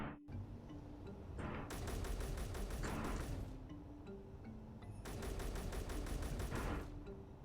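Weapons in the video game Space Engineers fire on a ship in two long bursts of rapid, crackling automatic fire over a low rumble. The sound is distant and fairly faint, with no voices.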